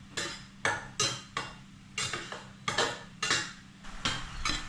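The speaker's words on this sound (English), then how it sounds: "When cooking nasi goreng, you want to keep everything moving in the pan." A metal spatula scrapes and clatters against a pan while stirring nasi goreng, about ten sharp, evenly spaced strokes, close and clear with no talking.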